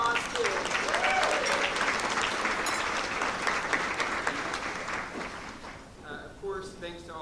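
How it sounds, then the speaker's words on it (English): Brunch guests give the staff a warm round of applause, full and steady at first, then thinning out as a voice begins speaking over the last claps. "Let's give them a round of applause too."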